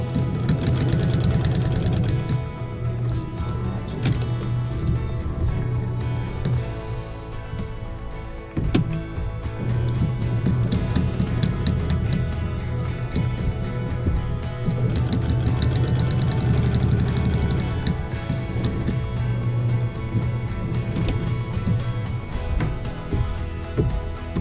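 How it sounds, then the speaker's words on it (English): A sewing machine runs steadily, stitching around the turned-in, pressed edge of a quilted table runner. The motor hum stays loud and continuous with a brief pause partway through, and no talk is heard. "I'm going to sew around the edge here."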